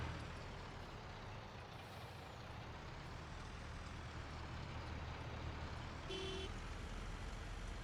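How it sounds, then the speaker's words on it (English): Lorries rolling past in Farming Simulator, a steady heavy engine and road rumble with a brief air-brake hiss and beep near the end, no talking. "Two lorries."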